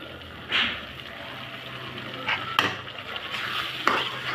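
Chopped onions are stirred into spices frying in a pan, giving a steady soft sizzle punctuated by a few sharp scraping clinks of a spoon against the pot, close up without talk.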